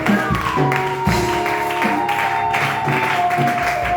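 Church congregation clapping and acclaiming during a sermon, loud sustained applause with cheering voices over a held organ or keyboard chord, filling the room.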